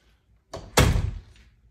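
Coat closet door in a Florida waterfront pool home, opened with a soft bump and then shut with a louder close thud, heard nearby in a quiet room with a faint rattle afterward.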